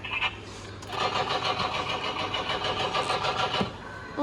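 A small motor runs steadily with a buzzing, whirring drone and a faint rhythmic pulse, close by and fairly loud throughout.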